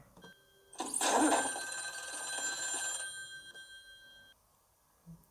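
An old-fashioned telephone bell rings in a tense film scene, one sustained ring of about three seconds, fairly faint and alone with no talk over it, fading off afterward.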